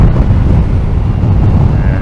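Steady low rumbling wind buffeting a microphone while riding an Energica electric motorcycle in the North Pennines, constant and loud throughout with no pauses.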